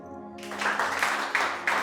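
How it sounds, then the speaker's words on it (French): A group of children in a workshop in Goma breaks into applause after a brief lull, a bright patter of many small hands that swells and pulses in uneven waves, moderately loud and close. "on applaudit pour lui."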